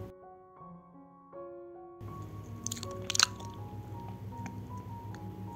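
Crunchy kastangel cheese cookies being bitten and chewed up close, a crisp crunch standing out amid steady soft chewing after a quiet start.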